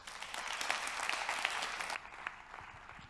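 A conference audience at MEDays 2025 applauds after a speech, a steady dense clapping that thins out and fades after about two seconds.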